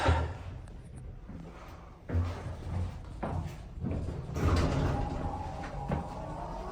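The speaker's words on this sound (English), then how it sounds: "Close the door." The sliding door of a ThyssenKrupp Endura hydraulic elevator at a Hyatt House in King of Prussia, PA rumbles and thuds shut close by, with several low knocks and a rising mechanical whir.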